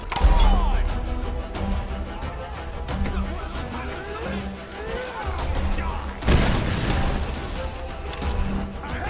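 Bomb explosions in the video game Tomb Raider: Definitive Edition, heavy booms and crashes rumbling over continuous game noise, with one especially big blast near the end and a voice talking intermittently.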